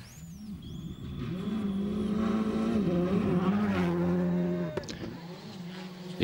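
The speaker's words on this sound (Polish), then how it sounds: "znów się rozpędza swoją Xarą specyfikacji 2006" A Citroen Xsara rally car in 2006 specification accelerates hard on a gravel stage of the 2009 Rally Poland, a WRC event. Its engine note climbs loud and steady for several seconds, then cuts off abruptly near the end.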